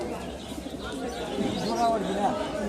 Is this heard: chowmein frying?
no